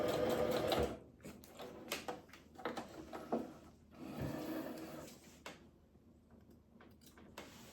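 A domestic sewing machine runs steadily while stitching a row along a frill curtain for a bathroom, loud at first, then continuing in bursts with brief pauses and slight mechanical clunks.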